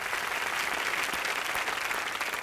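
Studio audience applause on a televised Bhojpuri reality competition show, a dense, steady burst of clapping from a crowd, loud and continuous throughout with no talk over it.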